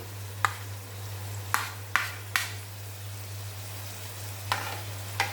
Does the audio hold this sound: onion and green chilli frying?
yes